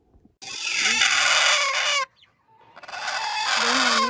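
A gray hen clucks and squawks loudly and close by in two long agitated bursts separated by a short gap, with no talking.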